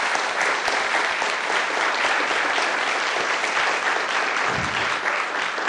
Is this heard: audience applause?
yes